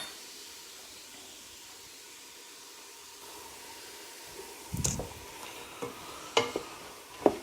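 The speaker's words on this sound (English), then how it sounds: "And then we'll start adding in our garlic" Store-bought minced garlic stirred into a soup pot for gnocchi chicken soup, a soft hiss rising into a few sharp spoon scrapes and clinks near the end, close and without talk.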